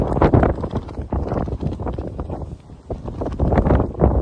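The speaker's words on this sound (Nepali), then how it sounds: "अब चाहिँ हावा चल्न सुरु हुँदैछ, हावा चल्न थालेको छ" Strong midday wind at Dhumba Lake near Jomsom in Mustang buffets the microphone in loud, uneven gusts, rising and easing over a few seconds with no talk.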